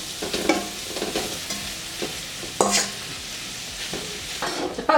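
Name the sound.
meat frying and being stirred in a pan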